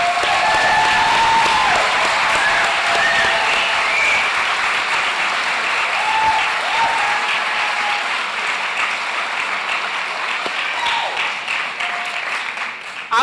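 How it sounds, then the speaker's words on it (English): Big sustained round of applause from the audience at a physical therapy white coat ceremony, dense continuous clapping filling the hall with a few voices faintly under it, steady throughout. "Let's give everybody one more big round of applause"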